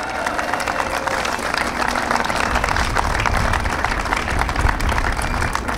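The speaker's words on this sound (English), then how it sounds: "Let's give her a round of applause." Crowd applause at an outdoor political speech on bridge infrastructure, a loud dense wash of clapping mixed with low rumbling background noise, steady for several seconds with no voice on top.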